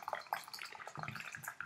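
Very hot water pours over genmaicha tea leaves in a teapot, a short close trickle and splash with a bright liquid hiss lasting under two seconds, no voices over it.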